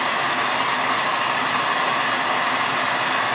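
A torch heats a bearing collar during assembly of a 1985 ATC 250R, a steady close roaring hiss at even loudness throughout.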